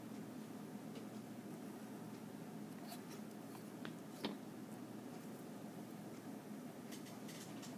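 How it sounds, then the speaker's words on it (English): A pencil eraser rubs out extra lines on paper in a quiet room, making a soft, steady scrubbing with a few faint taps over a low background hum. "Erase the extra lines."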